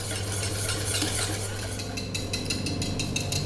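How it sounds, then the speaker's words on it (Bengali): Eggless sponge cake batter, thinned with milk, being mixed steadily with a hand beater, giving a continuous close whirring, scraping churn that holds an even level for a few seconds with no talking. "তো এই মিশ্রণটাকে আমি খুব ভালো করে হ্যান্ড বিটার দিয়ে মিক্স করে নিচ্ছি।"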